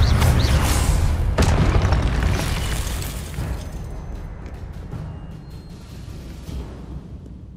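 In Hogwarts Legacy on PS5, the Glacius and Expelliarmus spells go off as loud, booming magical blasts, a heavy burst at the start that rings out and slowly fades away.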